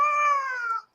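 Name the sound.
cat meowing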